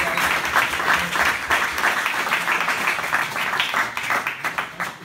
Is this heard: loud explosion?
no